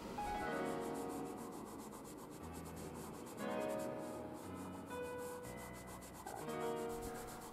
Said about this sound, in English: I'm now using a compressed charcoal.